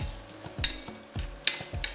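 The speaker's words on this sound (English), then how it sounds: "I just love the sound of the sizzle, the crisp." Beef sizzles in a Dutch oven as a utensil stirs and scrapes in a steady rhythm, with a few sharp metallic clinks, close up and without talk.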